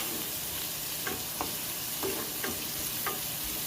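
Shrimp tossed in a hot pan, a soft, fairly quiet continuous sizzle broken by several light spatula scrapes and taps at irregular intervals, no voices.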